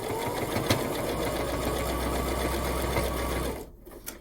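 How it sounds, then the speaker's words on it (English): A sewing machine stitches along a fold of quilt fabric for a micro mini quilt, a steady fast mechanical whirring hum that runs close and loud before stopping abruptly near the end. "and then I just stitch along that fold."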